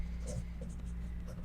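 Pen drawing on paper while laying out a mini album, a soft, continuous scratch of short strokes sitting under a low steady hum, with quiet talk nearby.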